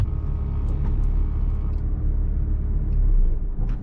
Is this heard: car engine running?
yes